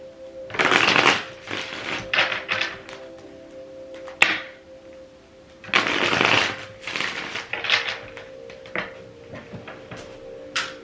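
Playing cards are riffled and shuffled in several brisk bursts, crisp and close, with quieter handling and taps between.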